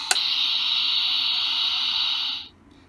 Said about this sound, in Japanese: 今度プルタブ開けるとさっきの音が鳴るんかな。